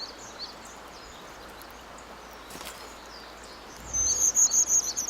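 Brown dipper near its nest by a stream, giving a run of sharp high chirping calls late on, over a constant wash of rushing water.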